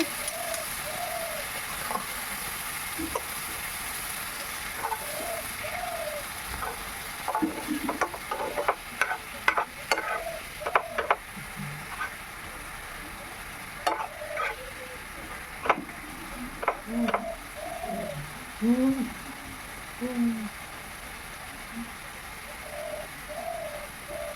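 Spices with Kashmiri chilli powder, turmeric and a splash of water fry for pea ghugni as a spoon stirs and clacks against the pan in bursts, the faint sizzle under a pigeon cooing steadily nearby.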